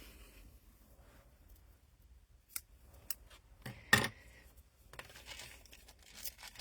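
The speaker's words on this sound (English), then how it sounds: "So I'll just get my scissors here and cut a piece of ribbon here." Scissors snip through a piece of ribbon in a few quiet, separate cuts with a crisp crinkle, close to the mic and without talk.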